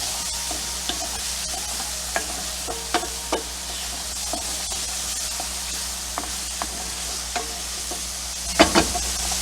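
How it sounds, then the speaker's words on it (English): Mushrooms sautéing in a pan, a steady sizzling hiss throughout with light clicks of stirring at irregular intervals and a brief louder scrape near the end. "So you just want to saute your mushrooms."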